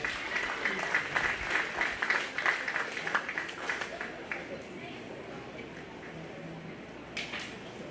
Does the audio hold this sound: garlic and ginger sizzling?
no